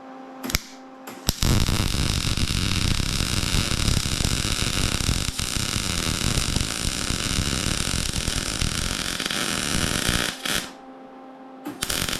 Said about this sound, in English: Got the welder ready to roll. And I'm going to attempt to weld this. This lawnmower blade is pretty hard to weld